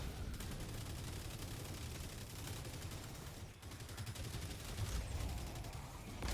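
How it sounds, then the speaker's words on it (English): Sustained, dense battlefield gunfire and heavy firing from Helldivers 2, a continuous loud barrage of overlapping shots and booms with no pauses, where mortar fire blends into the general chaos. "the mortar is still active"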